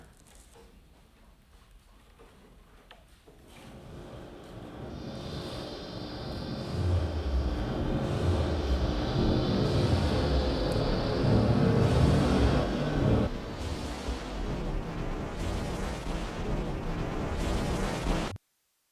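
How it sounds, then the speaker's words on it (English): Wind turbines in Comanche, Texas, roaring in a north wind, a low broad rumble that swells from quiet to a loud sustained roar like a jet overhead, then holds before cutting off abruptly. "Some people I've heard describe it as an airplane or jet plane that never lands. For us, if the wind's out of the north, they roar."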